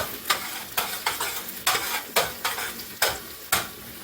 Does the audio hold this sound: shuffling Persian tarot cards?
no